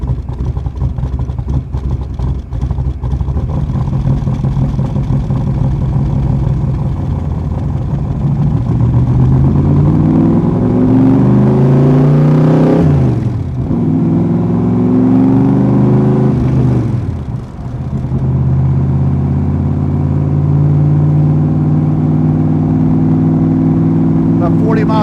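A 1966 Shelby Cobra 427 V8 pulls away in first gear and accelerates hard, the loud engine note rising through rpm with two brief dips at gear changes, close and sustained for the whole stretch.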